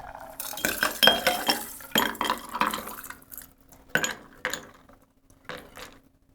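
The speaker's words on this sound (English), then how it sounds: "I'm just gonna open pour it in" Coke poured from a can into a tiki glass, with bursts of fizzing, splashing liquid and glassy clinks over several seconds, close by and alone.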